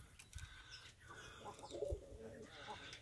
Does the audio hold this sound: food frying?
no